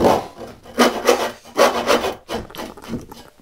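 A hand rip saw crosscuts a piece of wood, producing about six rasping back-and-forth strokes in an uneven rhythm with short pauses, close and clear with no talking.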